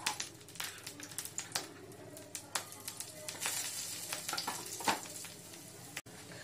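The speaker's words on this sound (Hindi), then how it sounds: "अब इसमें हम लोग जीरा डालेंगे।" Cumin seeds hit hot oil in a pan just used for frying paneer, giving a soft, crackly sizzle with scattered sharp pops and stirring scrapes, fairly quiet and with no talk.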